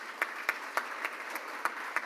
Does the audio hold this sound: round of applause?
yes